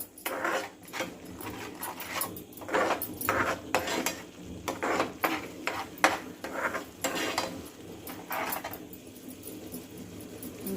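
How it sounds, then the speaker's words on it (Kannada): Black pepper and turmeric frying in a pan for rasam, with a steady sizzle and repeated scraping, clinking stirs of a utensil against the metal, close and fairly loud, with no talking. "ಸ್ವಲ್ಪ ಎಲ್ಲ ಫ್ರೈ ಮಾಡ್ಕೊಳ್ಳೋಣ."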